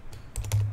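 A few quick keystrokes tap on a computer keyboard, close and crisp, about four light clicks in under a second.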